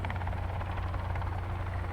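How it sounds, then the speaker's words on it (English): Helicopter in the video game Sons of the Forest, a steady rotor drone with strong low thrum that holds loud and constant throughout, no talking over it. "Oh, I see a helicopter."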